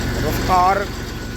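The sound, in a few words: Massey Ferguson 35 tractor engine running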